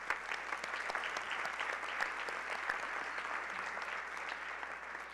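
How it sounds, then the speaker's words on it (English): A members' meeting audience claps in a steady, dense wash of applause that holds at an even level throughout. "really give a round of applause to each one"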